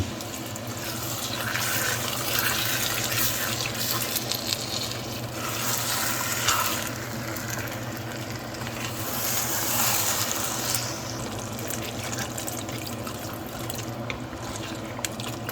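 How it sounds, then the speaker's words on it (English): Water is poured into a cooking pot while making beef jollof rice. A continuous, fairly close splashing and trickling runs throughout over a sizzling kitchen background, with no talk. "So I'll get some water into this."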